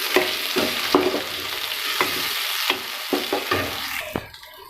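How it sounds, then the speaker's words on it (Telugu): Tomato pieces sizzle in a frying pan for spicy wheat-flour noodles, with a spatula scraping and stirring in repeated sharp strokes over a steady frying hiss, close and clear, with no talking. "ఫ్రెండ్స్ ఇలా వేగాక మనం టమాటా ముక్కలు వేసుకోవాలండి."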